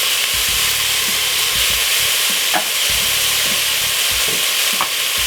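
Potato soup ingredients sizzle and hiss in a pot while a utensil stirs them, with soft scraping strokes recurring in an irregular rhythm, close and fairly loud, no talking.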